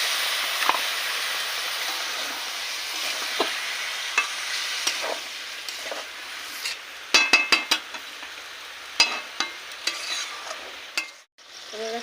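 Jackfruit biryani spices fry in a pan after a splash of water, giving a steady sizzling hiss that fades, then sharp spoon scrapes and clinks against the pan cluster near the end, close and without speech.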